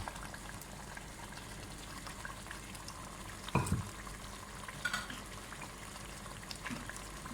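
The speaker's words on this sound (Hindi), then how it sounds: "इसमें मैं ये टमाटर डाल रही हूँ" Tomatoes and whole masoor dal cooking in a pot give a quiet, steady bubbling simmer, with a brief clink or splash partway through.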